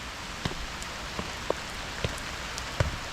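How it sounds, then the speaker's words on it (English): Steady rain falls on a city house yard after a wet night, a constant soft hiss broken by occasional sharper drips and splats, with no one talking. "it's raining if you can't tell, and it rained quite a bit overnight"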